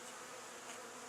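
Honeybees buzzing around their hives: a steady, faint, continuous insect drone with no talk.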